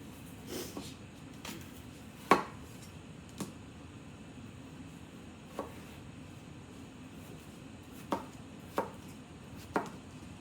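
Knife chopping big potatoes on a cutting board, a sparse series of sharp, separate thunks at irregular intervals over a quiet background hum.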